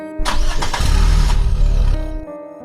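A car engine cranks over and catches, a loud close burst of starter whir that settles into a steady running rumble for about two seconds before cutting off, with no voices.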